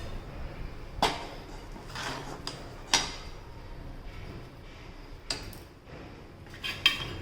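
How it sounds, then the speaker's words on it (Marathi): Cooked sweet lentil filling for puran poli pressed through a metal mesh sieve with a small bowl, giving soft scraping and a few distinct metallic clinks and knocks, quiet and close. "आता आपण थोडं थोडं पुरण घेऊन बारीक करून घेणार आहोत"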